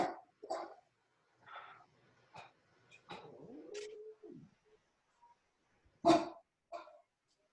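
Several dogs bark indoors in scattered, fairly faint bursts with quiet gaps between them and one sharper bark near the end.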